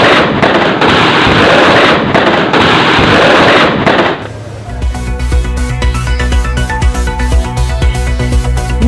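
A dense barrage of firecrackers at a temple festival in Cuddalore district crackles loudly for about four seconds, then gives way to music.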